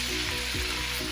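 Browned beef for beef bourguignon sizzles loudly and steadily in a hot pan as the pieces are flipped, a close, continuous crackling hiss with a slight surge midway.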